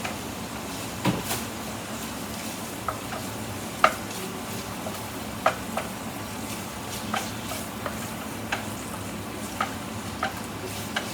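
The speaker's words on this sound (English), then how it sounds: "Get it stirred around." Softened cream cheese is stirred into a low-carb green bean hamburger mixture in a sizzling pan, with a soft frying hiss under faint scraping and occasional sharp utensil clicks against the pan.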